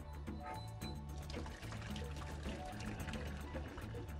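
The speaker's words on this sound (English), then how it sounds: "I'm just going to use the lid and pour this water into my trusty sink back here." Hot water from boiled potatoes pours from a pot held with its lid into a kitchen sink, a steady splashing stream that runs unbroken and fairly loud for the whole stretch, with a low hum beneath it.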